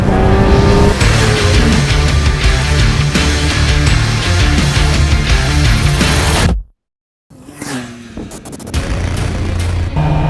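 A Kawasaki Ninja ZX10RR sportbike on a race track roars loudly at high revs with rapid gear-shift pulses, cuts to a brief silence, then returns with another engine run, close and continuous.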